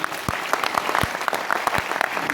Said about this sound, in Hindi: मैं चाहता हूं यार उस इंसान के लिए जरूर जोरदार वाली ताली हो